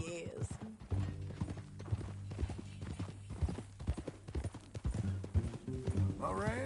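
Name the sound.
horse hooves clip-clopping, from a western video game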